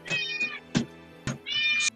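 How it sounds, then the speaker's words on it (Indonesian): A cat meows three times, the first and last calls long and drawn out with a short sharp mew between them, close and clear with no talk. "sadar dengar bunyi kucing"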